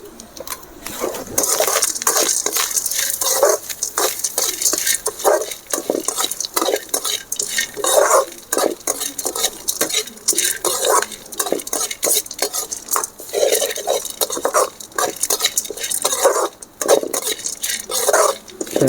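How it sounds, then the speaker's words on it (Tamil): Peanuts dry-roasting in a pan for mixed vegetable rice, stirred steadily with a metal spoon that scrapes and clinks against the pan in close, busy bursts over a light sizzle. "இதை நல்லா பொன்னிறமாக வறுத்தெடுக்கணும்"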